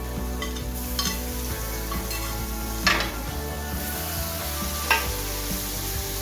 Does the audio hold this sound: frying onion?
yes